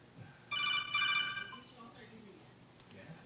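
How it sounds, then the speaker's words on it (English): An incoming phone call rings with a bright electronic ringtone, a short burst of repeated tonal pulses heard faintly in a quiet room. "I'm getting a phone call."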